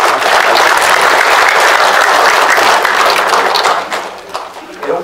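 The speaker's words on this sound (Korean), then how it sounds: "우리 다 같이 한 박수 한 번 주세요." Loud, close applause fills a Korean lecture-style gathering after a national anthem performance, a thick wash of many hands clapping that thins and tapers off in the final second.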